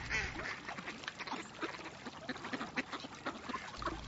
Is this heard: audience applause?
no